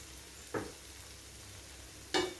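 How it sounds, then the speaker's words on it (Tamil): Eggs and masala sautéing in a pan for bread balls: a soft, steady sizzle with two brief spatula scrapes stirring the mixture, and no voices. "இது எல்லாத்தையும் சேர்த்து நல்லா வதக்கிடலாம்"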